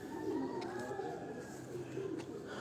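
Black pigeons coo in soft, low, rolling calls at a pigeon keeper's loft in Dhok Kala Khan, Rawalpindi, the burbling repeating close by under a faint steady background.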